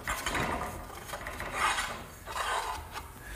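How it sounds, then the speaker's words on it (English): Metal conduit slides through a drilled hole and an eye bolt, giving a close, continuous rasping scrape in several slow strokes, with no voices. "the conduit just gets slipped through the hole I drilled and through the eye bolt"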